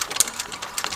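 An upholstery sewing machine stitches bolster cushion fabric in quick, rapid mechanical clicks and whirs, close and moderately loud over about a second.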